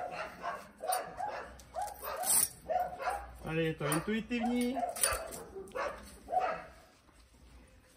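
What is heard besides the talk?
dogs barking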